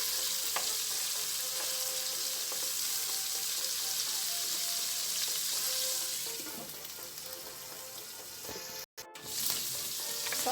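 Pork browning in a pan for Ilonggo-style pinakbet gives a steady, close sizzle that runs almost unbroken, dipping briefly to near silence just before the end, with no talking.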